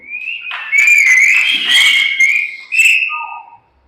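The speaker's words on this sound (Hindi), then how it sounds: "अरे सीटी होनी चाहिए यार।" Audience members at a church sermon whistle loudly, with several shrill, sliding whistles overlapping for a few seconds before stopping abruptly.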